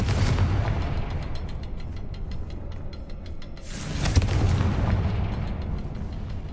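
A fiery blast from the Confringo spell in the video game Hogwarts Legacy bursts out in two loud rumbling waves, the second flaring brighter and then fading into a sustained roar.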